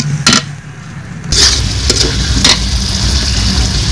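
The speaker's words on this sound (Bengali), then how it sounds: "টক দই, আর 2 মিনিট কষাবো আমি এটা।" Spices and sour yogurt are stir-fried in a pan for chicken biryani: a loud, continuous sizzle broken by a few sharp utensil scrapes and clanks against the pan.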